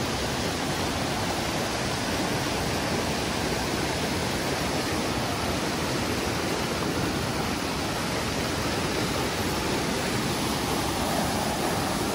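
A steady, loud rush of flowing water fills the whole stretch, broadband and unbroken like a swollen river close by, with no voices.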